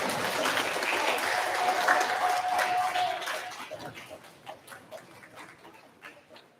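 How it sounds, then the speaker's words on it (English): An audience at a middle school awards ceremony applauds teacher award winners. Steady clapping fills the room, then thins out and fades into scattered claps by the end. "Let's give a big round of applause to all of our teacher award winners"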